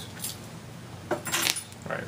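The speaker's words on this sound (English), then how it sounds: "Oh, my keys." A small set of keys jangles in short metallic bursts during a tabletop trading card game session, with a few faint scattered clinks spread across about two seconds and a brief louder cluster near the middle.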